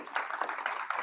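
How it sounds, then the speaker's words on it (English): An audience claps after a talk on seller financing, a steady, moderately close patter of many hands over about a second. "most attorneys don't get applause"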